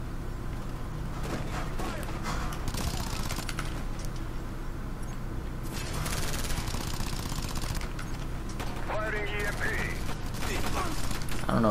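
Sustained automatic gunfire in Ghost Recon Future Soldier, bursts and rattling volleys continuing through the whole stretch at moderate distance, with a voice talking over parts of it.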